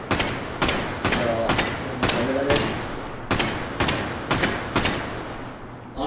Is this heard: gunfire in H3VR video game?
yes